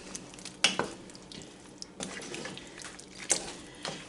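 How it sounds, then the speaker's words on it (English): Spoon stirring venison stew in a cast iron pot, a few scraping clinks against the metal amid soft bubbling and wet sloshing, close and quiet. "I'm just going to stir this in well."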